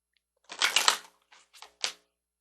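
Oracle cards are shuffled and drawn from a moon card deck: a close, crisp riffling burst, then a few short, soft flicks as single cards are pulled, with no talking.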